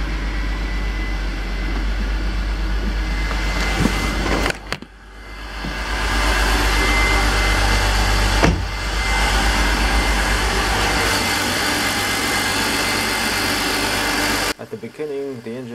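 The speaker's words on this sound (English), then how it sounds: "The engine was sounding like it is misfiring a little bit, but after a couple of seconds the idle was smooth like butter." A BMW E46 or E39 engine, freshly fitted with new gaskets and a rebuilt Vanos, cranks and starts, then settles into a steady, loud idle with a brief hiccup partway through before running evenly.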